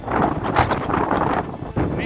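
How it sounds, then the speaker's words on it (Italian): Wind gusts across a hillside above Tregnago in the Val di Lasi and buffets the microphone on an overcast day, a continuous rumbling rush that swells and dips under someone speaking. "Mentre il vento si fa sentire"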